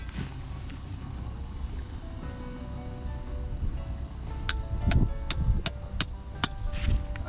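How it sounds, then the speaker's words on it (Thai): Sharp metallic hammer blows striking a tarp anchor stake into the ground outdoors, several distinct loud knocks in an uneven rhythm after a stretch of low outdoor background noise. "เวลาเราตอกสมอ เราต้องตอกสมอ ให้มันเข้าไปหาด้านในของ ตัวทาร์สนะครับ"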